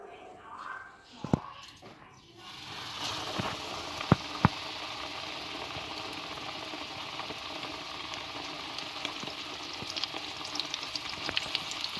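A breaded chicken fillet lowered into hot oil in a pan sets off a loud, steady sizzle that holds continuously. Scattered pops and utensil taps come through it, and a few quieter clinks precede the frying.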